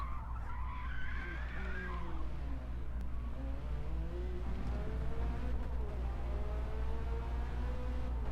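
Race car in the Forza Motorsport driving game sliding and losing grip, with a loud, continuous engine drone under squealing, skidding tyres, the pitch rising and falling steadily throughout.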